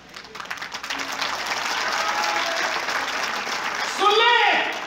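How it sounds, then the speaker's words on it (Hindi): Audience applause at a Hindi Day 2019 event swells steadily into sustained clapping from a crowd, with a brief louder burst and a voice rising over it near the end. "उसे समंदर बना के तालियां बजाना"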